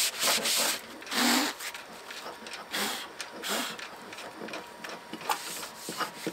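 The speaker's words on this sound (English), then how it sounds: "I'll give it a sanding pad as well." Repeated rough scrubbing strokes of a sanding pad against a classic yacht's hard hull, irregular bursts of gritty friction at close range.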